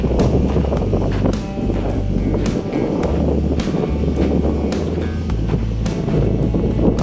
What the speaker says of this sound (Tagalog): Medyo malakas na yung hangin, no?